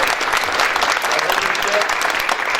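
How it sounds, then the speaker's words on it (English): An audience at a Black History Month panel applauds a panelist coming up, with steady, dense clapping filling the room the whole time. "We'll applaud each of them as they come up."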